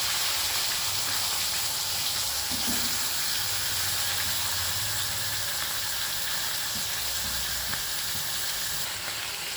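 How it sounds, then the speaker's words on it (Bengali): Katla fish heads frying in oil in a home kitchen give a steady, even sizzling hiss that holds for the whole stretch without a break. No one speaks. "এই যে মাছের মাথাগুলোকে প্রথমে ভেজে নিচ্ছি।"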